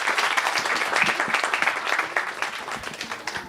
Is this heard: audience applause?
yes